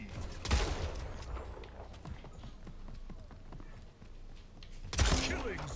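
Shotgun blasts in the video game Splitgate, two heavy booms about four seconds apart, the second followed by a trailing rumble, with footsteps and game noise in between.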